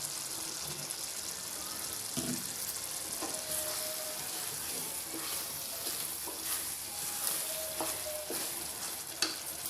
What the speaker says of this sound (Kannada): ಕಾಳು ಜೊತೆ ಖಾರ ಎಲ್ಲ ಕುದೀತಾ ಇದೆ, ಗಮ್ ಅಂತ ಇದೆ.